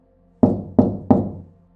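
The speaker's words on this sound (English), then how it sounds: "Then I heard tapping from inside the cooler." Three evenly spaced hollow knocks, like tapping on the inside of a walk-in cooler at a gas station, each sharp and resonant with a short decaying tail against near silence.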